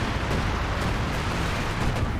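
Airstrike explosions in a Company of Heroes match, a continuous heavy rumble of blasts and bursts with faint sharper cracks, loud and dense, no voices.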